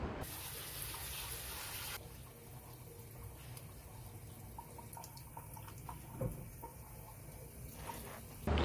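Water pours onto cocoa peat potting medium in a small houseplant pot, a faint, steady wash of trickling and soaking that starts about two seconds in and runs evenly to the end.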